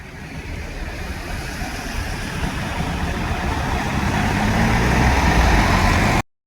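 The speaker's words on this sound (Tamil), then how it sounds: "அதை சுற்றி பாருங்கள் எவ்வளோ காருங்க போயிட்டு இருக்குதுன்ட்டு" Cars and trucks drive along a road past a wild elephant, a steady rumbling engine drone that swells as a heavy vehicle draws near, then cuts off abruptly.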